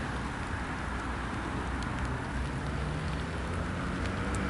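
Steady, dense hiss of rain falling nearby, a constant wash of patter with no pauses.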